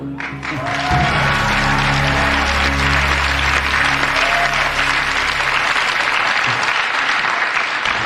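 Studio audience of about 300 people applauding on a truth-telling game show, a loud, dense burst of clapping that rises quickly and holds steady, with a low hum underneath at first.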